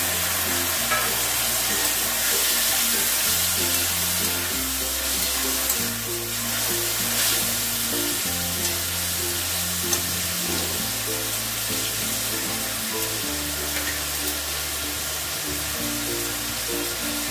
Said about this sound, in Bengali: পেঁয়াজগুলো আমার ভাজা হয়ে গেছে। এবারে আমি টমেটোটা দিয়ে দেবো।